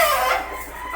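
Gamefowl rooster, a prized broodstock bird, clucks and crows up close, a loud, harsh call that sweeps and fades over about a second with no voices.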